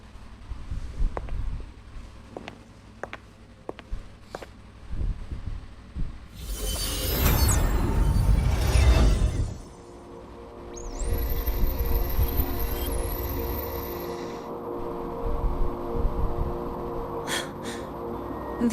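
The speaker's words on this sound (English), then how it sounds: "Judging by the cassette's data, they're sounds the Far Watcher recorded while drifting through different galaxies." Cassette playback of white noise recorded while drifting through space in the Wuthering Waves game: soft clicks and hums, a loud noisy surge in the middle, then a high warbling tone over steady hiss.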